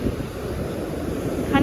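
Rough, stormy sea waves surge and wash in a continuous broad roar mixed with wind buffeting the microphone, steady and fairly loud without talk.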